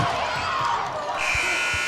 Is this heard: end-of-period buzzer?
yes